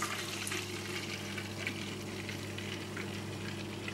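Hot tap water pours into the clean-water tank of a Vax Floormate hard floor cleaner, a continuous hissing gush with a low hum beneath it, heard close and steady throughout.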